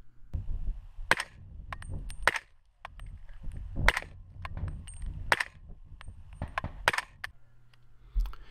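Suppressed 300 Blackout subsonic rifle rounds fired from a 7.5-inch barrel with a carbine buffer, heard as a string of sharp, fairly quiet cracks and action clanks spaced irregularly over several seconds.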